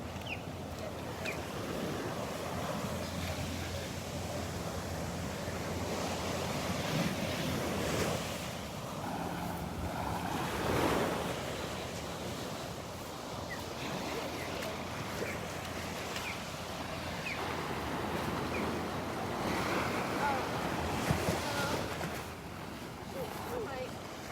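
Surf washing onto a beach in Naples, Florida, a steady broad wash with gentle swells, wind buffeting the microphone throughout, and faint talk at times.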